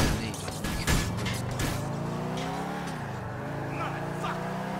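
A car engine in GTA IV drones steadily and shifts pitch as the vehicle speeds up and slows, with a few knocks and bumps near the start and a player talking over it.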